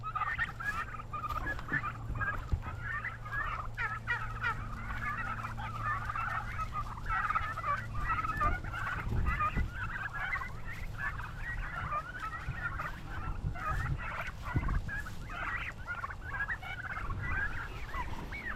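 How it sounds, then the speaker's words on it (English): A flock of turkeys gobbles and chatters continuously at moderate distance, overlapping warbling calls over a low background hum, with no talking. "So these are the turkeys. Those are Thanksgiving turkeys."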